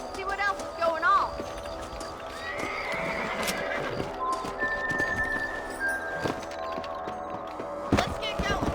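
Horses gallop in a video game with steady clip-clop hoofbeats, repeated neighs and whinnies, and game voices talking over the scene.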